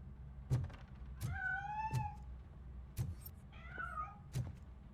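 Sharp knocks and thumps repeat while a cat meows twice in between, faint and somewhat distant, as the cat escapes in the video game RoboCop: Rogue City.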